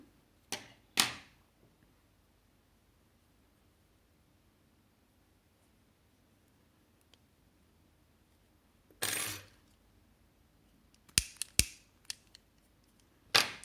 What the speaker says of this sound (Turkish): Hemen buradan ipimi kesiyorum.